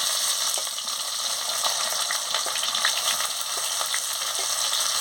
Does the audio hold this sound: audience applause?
no